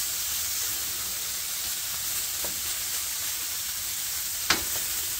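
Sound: pork cutlets sizzling in a pan with marinade

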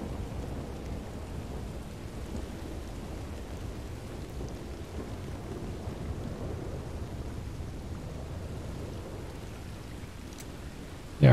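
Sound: heavy rain in video game Red Dead Redemption 2

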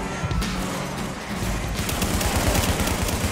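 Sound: gunfire in a firefight, from video game The Division

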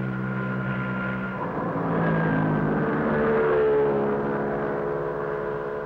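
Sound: scooters riding through mist in a rally

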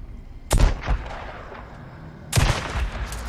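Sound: gunshots in video game Days Gone

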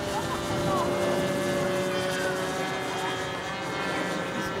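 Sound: RC P-51 Mustang model plane flying, propeller engine

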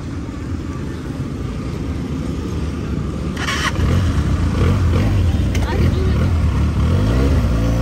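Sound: Benelli 300 motorcycle on a test ride

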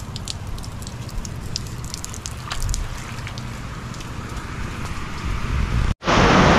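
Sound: heavy rain

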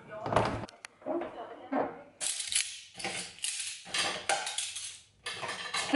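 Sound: dishes clattering while unloading a dishwasher

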